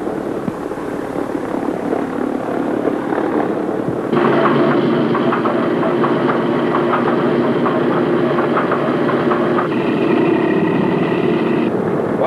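Number two radial engine of a B-17 bomber cranking and catching, a steady rumbling drone that steps up sharply to a louder, fuller roar partway through and holds there, with shifting tones near the end.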